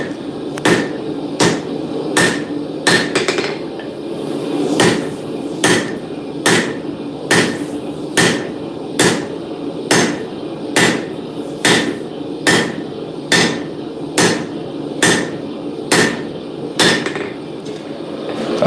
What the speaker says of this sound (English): sometimes it's fun to swing a hammer